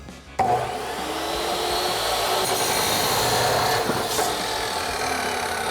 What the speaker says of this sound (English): we're gonna go ahead to our chop saw and get this cut down the length